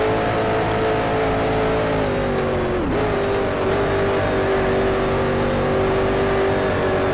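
Steady, loud racing-car engine drone in the Grand Prix Legends game, held at a high whine with a brief dip in pitch as it shifts or lifts, then climbing again, continuous throughout with no talking.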